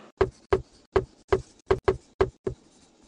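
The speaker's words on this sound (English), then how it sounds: "Use the mallet to knock the treads on." In the Tonka Workshop video game, a mallet knocks tank treads onto a toy robot with eight evenly spaced, sharp, close knocks at a steady rhythm, each a hollow thud against quiet surroundings.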